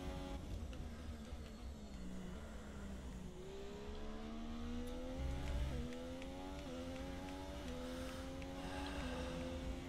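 A Formula 1 race car in the F1 2017 video game drives a lap, its high engine whine rising steadily through repeated upshifts, loud and continuous throughout.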